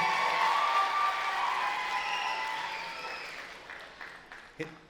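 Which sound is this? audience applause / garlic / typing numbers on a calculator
audience applause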